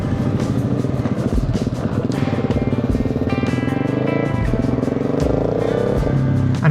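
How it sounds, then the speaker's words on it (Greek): Several adventure motorcycles setting off together for a desert ride near Petra, Jordan, engines droning loud and steady throughout with rising revs toward the end. "Έτοιμες οι μοτοσικλέτες και ξεκινάμε."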